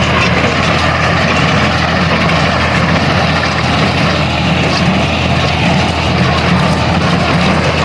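A tractor runs steadily with a machine hitched behind it in a farm field, its low engine drone loud and continuous from start to finish with no talk over it.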